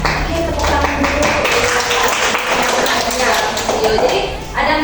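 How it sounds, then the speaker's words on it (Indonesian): A group claps hands together in a classroom or school gathering, a dense, steady patter of many hands filling the space from start to finish, with voices mixed in underneath. "Oke, tepuk tangan dulu."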